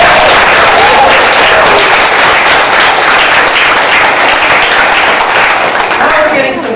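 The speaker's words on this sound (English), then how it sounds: "I want you to give it a huge round of applause" An audience at a speech bursts into loud, sustained applause, dense clapping from a large crowd that holds steady for several seconds before tapering slightly at the end.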